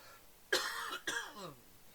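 Two harsh coughs close to the mic, one right after the other, the second trailing off into a raspy breath.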